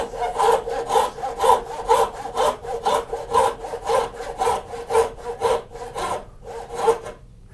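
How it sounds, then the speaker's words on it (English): A hand saw cuts wood for a mitered bridle joint, giving about a dozen steady, rhythmic rasping back-and-forth strokes up close, with no talking. "Twist the saw a little bit and use the side of the teeth to scratch it in."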